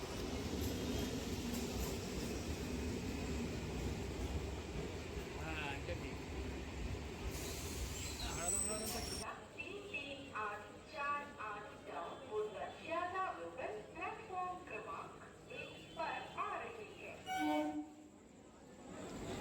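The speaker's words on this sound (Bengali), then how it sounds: "ডাউন বনগাঁর অপেক্ষায় দাঁড়িয়ে থাকতে থাকতে দেখলাম আপ বনগাঁটি চলে এলো।" An up Bongaon local train rolls into a busy, crowded suburban station near Kolkata, its rumble and hiss loud and close for about nine seconds before dropping away, followed by platform noise and people talking.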